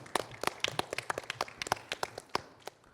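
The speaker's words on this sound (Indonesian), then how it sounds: "Mohon tepuk tangan untuk kita semuanya" Audience at a talk show on deregulation and investment development clapping in a brief round of applause, with sharp, uneven claps over about three seconds, fairly close and steady.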